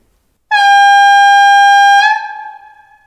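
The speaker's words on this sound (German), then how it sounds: "Das Signalhorn in Abhängigkeit von der Tastendrucklänge." Signal horn of a Wunder gauge 1 (1:32 scale) model class 111 electric locomotive: one loud, steady, bright tone held for about a second and a half, then trailing off over the next second, alone with no talk.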